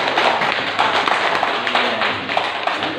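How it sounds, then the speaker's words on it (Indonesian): Schoolchildren in a classroom clap together in a group, a dense run of loud, fast hand claps lasting the whole moment with slight room echo. "Tepuk tangan."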